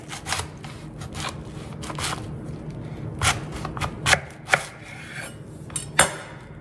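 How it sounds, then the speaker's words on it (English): A sharp knife cuts straight down through a tight cabbage head, a series of crisp crunching and tearing strokes in an uneven rhythm, close and fairly loud, with no talk. "So cut it straight down."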